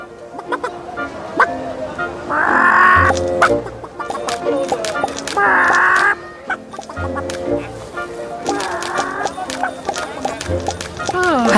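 A chicken clucks in short bursts at a rural homestead, several close clucks spaced a few seconds apart amid people talking.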